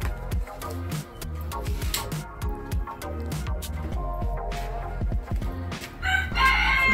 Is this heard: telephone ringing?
no